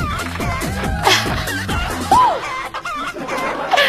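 Rooster crowing and clucking set to a bouncy march-style tune played as a sound effect during a livestream, with repeated crowing calls and rhythmic music throughout.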